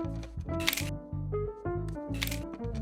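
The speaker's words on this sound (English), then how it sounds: "With the flash and shutter on and everything?" A cartoon camera shutter clicks with a flash burst as a group of middle-aged friends takes a blurry selfie at the end of a cookout, two bright bursts over a steady musical background.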